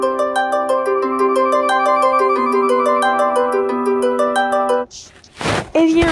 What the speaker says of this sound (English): if y'all remember this ringtone, just listen.